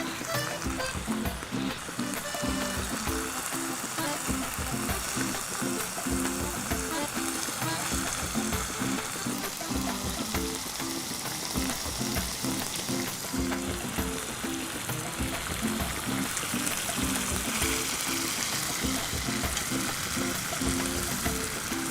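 Chicken cooking with green chilli and coriander on a medium flame for Goan chicken cafreal, a dense, constant sizzle and bubbling frying sound that stays even and fairly loud throughout, with light speech underneath.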